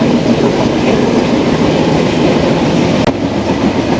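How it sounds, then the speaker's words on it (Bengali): Simanta Express passenger train on a night run from Khulna to Chilahati, rolling at about 71–73 near Chilahati station, gives a loud, steady rumble of wheels and carriages, broken by one sharp click just after the three-second mark. "73, 72, 71 চলছে এখন সীমান্ত এক্সপ্রেসের ট্রেনের স্পিড"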